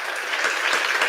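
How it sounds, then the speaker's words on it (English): Applause at a press conference, a short dense burst of many hands clapping together, moderately loud and even, with no voices over it. "Give them a round of applause."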